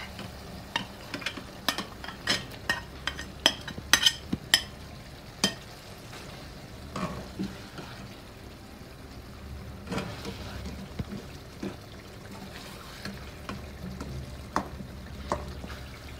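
Marinated fish pieces fry in a pan for a spicy fish curry, with a low, steady sizzle under a run of sharp clinks and scrapes from stirring near the start, then quieter sizzling with occasional knocks.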